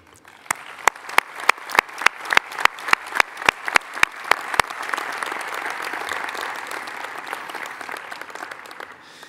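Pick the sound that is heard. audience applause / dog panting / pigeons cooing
audience applause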